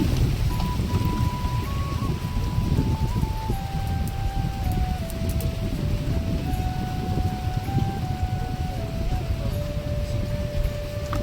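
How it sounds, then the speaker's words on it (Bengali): Heavy rain sweeps over a transplanted paddy field in a Bangladeshi village, a dense, steady hiss that fills the whole stretch, loud and even, with a thin sustained tone running faintly through it. "হ্যাঁ তা দেখো জোর বৃষ্টি চলে এসছে"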